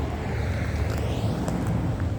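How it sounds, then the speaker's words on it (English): A salt truck passes on the road by a small cabin in rural Ontario, making a steady, loud broadband rumble and whoosh that swells slightly midway. No voices are heard. "the salt truck just went blazing by"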